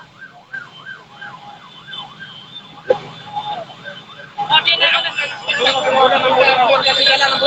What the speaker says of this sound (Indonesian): Warga Madura tolong ke pinggir, ada ambulannya.